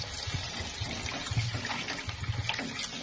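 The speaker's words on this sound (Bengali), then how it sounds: "এবার অল্প থেকে অল্প জল দিয়ে দিলাম" Water is poured into a pan of fish curry, a steady running splash and trickle throughout, close and moderately loud.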